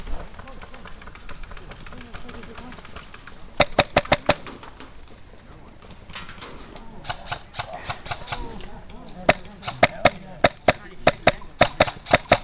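Airsoft guns fire during an outdoor game. Sharp snapping shots come singly and in quick bursts, some near and some farther off, over rustling movement, with people talking at times.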